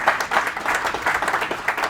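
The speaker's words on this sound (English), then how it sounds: "give yourself a round of applause for being here tonight" Audience applause at an evening book launch event in Menlyn, a short burst of steady clapping from a moderate crowd, fairly close and lively throughout.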